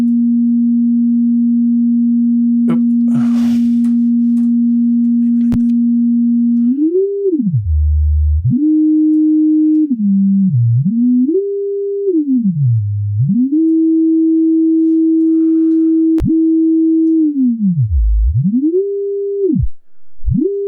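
A homemade sine oscillator built in Max/MSP for simple FM synthesis plays a steady pure tone, then glides and sweeps up and down in pitch in repeated bends, loud and alone, with a few faint clicks.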